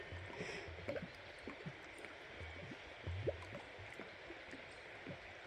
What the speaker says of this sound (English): I can hear the water hitting in there.